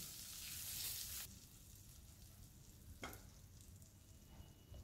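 Curry leaves and a spoonful of white sesame seeds frying in hot oil, a bright crackling sizzle that starts loud and busy, then drops to a steady low simmer with a brief spatter burst midway.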